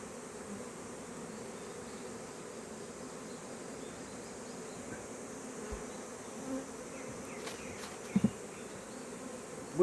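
Honeybees buzzing around the hives while being fed pollen patties, a steady, faint, continuous hum with a few brief knocks near the end.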